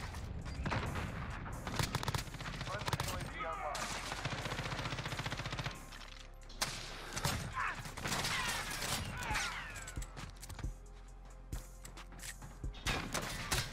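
Gunfire rings out in a Call of Duty match while playing an M13 class, with rapid automatic bursts and sharp cracks crowding a busy, noisy battle mix.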